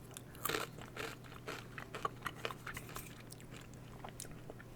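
Biting into a crunchy Taco Bell Doritos Locos taco close to the mic, with a series of sharp crunches followed by steady chewing and crackling over a quiet hum.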